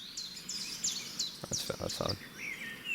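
Bright chirping bird sound effects at the opening of a song, repeated high tweets and trills over a soft ambient bed, while someone briefly talks over them in the middle.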